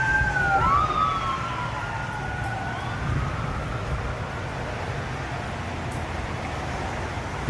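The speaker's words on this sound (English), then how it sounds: "I hear the ambulances and sirens going on" Ambulance and emergency vehicle sirens wail from a distance, sweeping up and down in pitch through the opening seconds before fading under steady wind and rain noise of a tropical storm in Stockbridge, Georgia.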